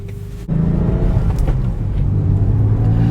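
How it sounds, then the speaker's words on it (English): A Porsche 996 engine fires up and pulls away, a steady loud rumble rising after a short quieter idle, with a revving note as the car sets off. "Okay, so let's go for a drive."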